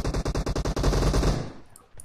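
Automatic gunfire in PUBG Mobile: loud, rapid bursts of shots, close and evenly spaced, then fading into a few sharp faint clicks.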